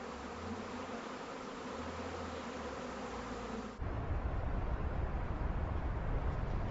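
Honeybees buzzing around hives newly unloaded and set up in the dark, a steady dense swarm hum that swells louder and closer partway through, with no talking.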